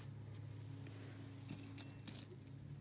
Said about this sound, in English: Here's some keys for one.